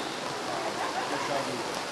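Heavy rain pouring down during a football match in Bari, a steady dense hiss filling the clip at moderate level, with faint crowd or voices blurred underneath.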